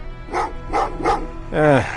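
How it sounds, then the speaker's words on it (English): Dogs barking in the Terminator: Resistance video game: three short barks in a steady rhythm, then a longer howling yelp, fairly close and loud over a low background hum. "Well, what's with the dogs?"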